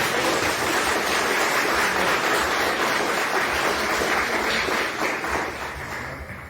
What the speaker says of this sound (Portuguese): Pode saltar uma salva de palmas para o Senhor.